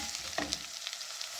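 Chopped garlic, chilies and onion fry steadily in a hot pan with a dense, even sizzle, plus a few brief clicks of stirring. No one speaks.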